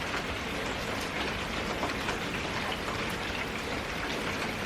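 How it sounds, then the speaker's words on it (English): Heavy rain pours down outside on a street where a car is parked, a steady, dense, close hiss of drops hitting surfaces with no break throughout. "It's like pouring down rain."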